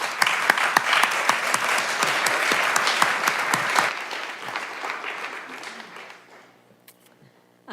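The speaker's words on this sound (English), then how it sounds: "Big round of applause, please, everybody." An audience gives a speaker a round of applause at a talk on civil disobedience and policy change, a full, sustained burst of clapping that tapers off into near silence.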